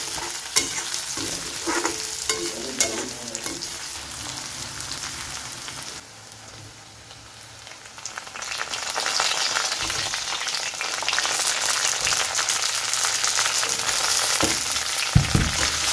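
Onion, dried chili and garlic frying in oil with five-spice seeds, a crackling sizzle and stirring scrapes that drop quieter for a moment midway, then swell back to a steady, louder hiss.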